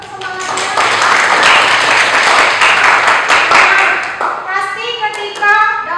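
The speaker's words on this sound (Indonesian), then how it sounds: "Sekali lagi tepuk semangatnya." Students clap together in a loud, dense burst of applause close by, with children's voices mixed in, the clapping thinning toward the end as talk continues.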